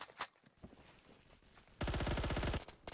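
Colt SMG 633 firing a sustained automatic burst through a wall in Roblox Phantom Forces, a loud rapid rattle of roughly a dozen shots lasting under a second, preceded by scattered quieter distant shots.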